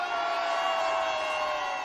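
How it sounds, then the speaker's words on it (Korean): Crowd shouting and cheering at an outdoor political rally on Geumnam-ro in Gwangju, a steady, loud, dense roar of many voices sustained throughout without pause. "전방을 향해 함성!"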